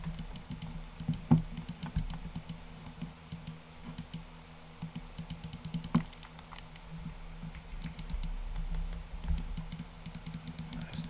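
Laptop keys being pressed and clicked during PC gameplay, a steady run of light tapping and clicking close by with occasional louder clacks, no talking.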